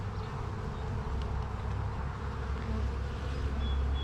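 Honey bees swarm around an open hive frame full of nectar and pollen, giving a close, continuous droning buzz that stays steady throughout.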